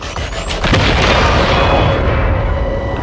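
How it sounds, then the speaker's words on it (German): A loud, deep explosion in the video game XCOM 2 booms and then rumbles on, a heavy blast that fades slowly with a low roar trailing behind. "Das war eine geile Explosion."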